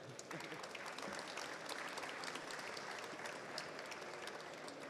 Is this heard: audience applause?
yes